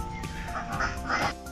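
Ducks quack repeatedly in a muddy enclosure at a small zoo, several loud, close calls overlapping in a steady run over low background noise.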